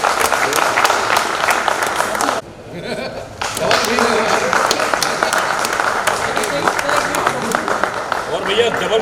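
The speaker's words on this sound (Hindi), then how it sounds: "जोरदार तालियां, जितने लोग हैं उतनी तालियां बजाएंगे" Audience at a cooperative society's annual general meeting clapping in a dense, steady burst that breaks off briefly and then resumes, with voices mixed in.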